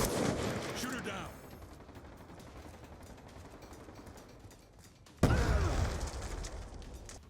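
Gunfire in a Black Ops II multiplayer match against bots fires in dense bursts, with a rapid rattling volley at the start, a quieter stretch of scattered shots, then a loud close burst near the end. A voice is faintly present underneath.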